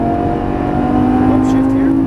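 A Lamborghini Gallardo Superleggera LP570-4 accelerates hard onto a track straight, its engine note loud and close and climbing steadily in pitch with no break.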